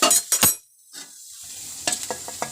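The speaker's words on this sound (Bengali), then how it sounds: "দেখো আদা রসুন আর কাঁচা লঙ্কা যে কোচানো ছিল, এটাকে আমরা একটু কষিয়ে নেব" Chicken sizzles and stirs in a pan with ginger, garlic and green chilli, a short scraping stir followed by a soft sizzle and light clinks of the spoon against the pan.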